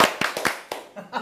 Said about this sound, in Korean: 박수 한번 치고 시작합시다